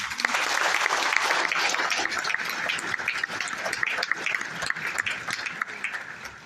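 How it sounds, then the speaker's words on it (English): A school concert audience applauds the music department helpers, a loud, dense crowd clapping close by that begins strong and slowly thins toward the end. "Can we give them a round of applause?"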